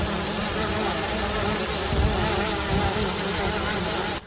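Motors of a DIY RTK GPS drone buzz loudly and continuously in flight, a dense insect-like whine that holds steady for several seconds before cutting off abruptly.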